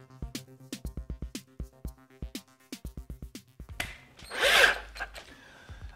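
A power drill with a 16mm auger bit pulses in short repeated bursts into a door, a dozen or so quick whirs, then runs into a longer grinding, hissing stretch as it bites through.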